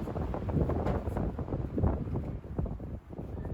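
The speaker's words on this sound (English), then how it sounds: "It's so windy" Strong wind at a log home construction site in the Teton Mountains, Idaho, buffets the microphone in a steady low roar, rumbling and gusting continuously throughout with no talking.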